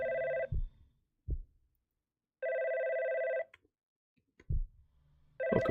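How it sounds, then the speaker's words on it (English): A telephone rings in the video game Mask of God's Basement, two long electronic bursts with a pause between them and a third starting at the end, with soft thumps in the gaps and no talking. "I hear the phone."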